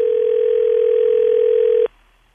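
A steady telephone tone drones loudly and continuously for nearly two seconds during a phone call, then cuts off abruptly, leaving faint line hiss.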